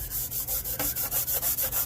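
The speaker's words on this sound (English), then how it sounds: "We're just scuffing that surface back out and getting rid of the paint on that upper level." Paint is scuffed off a bead-rolled metal surface with a rapid, rhythmic rubbing rasp, about ten strokes back and forth, close and loud with no talking.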